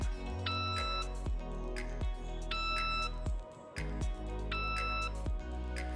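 STEC Field Master stake-out surveying device giving three evenly spaced two-tone electronic beeps, close and clear, over a steady low background hum.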